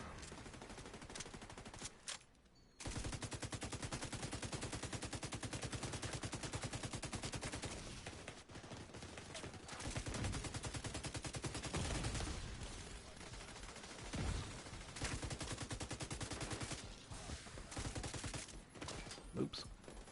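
Sustained rapid automatic gunfire from the video game The Division 2, loud and nearly continuous bursts with a brief pause early on, dense volleys carrying through the whole stretch.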